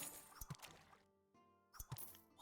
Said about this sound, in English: you can hear the water splashing.